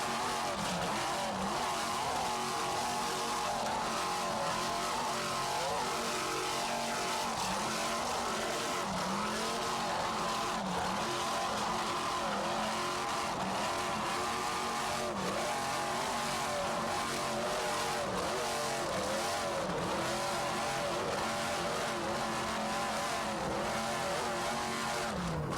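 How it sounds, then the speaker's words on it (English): A racing boat powered by two 700 horsepower United Racing inboard engines roars continuously at full throttle, a loud, dense engine drone with wavering pitch throughout, heard from a distance during a 1994 South Padre Island race. "Just listen to Mr. Terriers at the throttle with those two 700 horsepower United Racing inboards."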